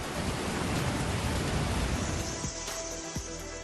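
Heavy rain mixed with hail pours down as a dense, steady roar, with a few sharp impacts standing out near the end and no voices.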